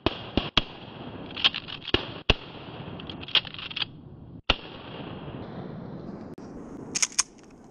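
Shotgun blasts during a duck hunt outdoors, several sharp distant cracks spaced unevenly, some in quick pairs, over a thin background hiss.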